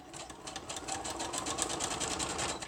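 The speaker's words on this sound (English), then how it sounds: "I pushed it over so that it's hanging off the side of the sewing machine there. Okay, and I'm just going to sew straight across this." A sewing machine stitches straight across a journal made from packing paper, giving a fast, even run of needle clatter, close and steady and heard alone.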